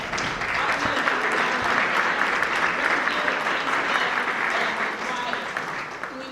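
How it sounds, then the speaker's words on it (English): Steady, dense applause fills a community forum as elected officials are recognized, sustained and loud throughout with no clear talk over it. "We want to recognize the people in the round of applause."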